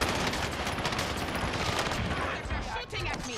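Gunfire in the Warzone video game, a dense, sustained spray of shots over a loud, busy mix, with a voice speaking over it.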